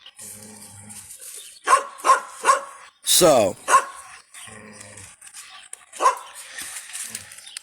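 A dog barks in sharp bursts of three, then lets out a longer growling snarl and more barks, close and loud, with someone speaking briefly in between.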